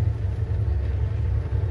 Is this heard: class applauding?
no